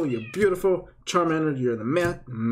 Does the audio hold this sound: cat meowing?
yes